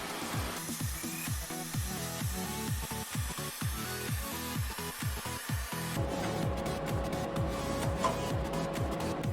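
Milling machine cutting a steel blank for a branding iron, giving rapid rhythmic chattering cuts at first, then a steadier continuous grinding whine with high metallic tones, loud and close with no talk.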